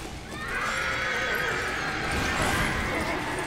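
A horse whinnies in Lego Lord of the Rings, a long, wavering neigh over a dense rumble of hooves and game noise, loud and close.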